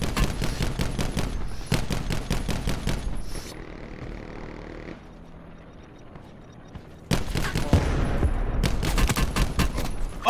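Auger rifle gunfire in Apex Legends: loud, rapid bursts of close shots, a quieter lull of scraping and distant action in the middle, then another sustained volley of fire.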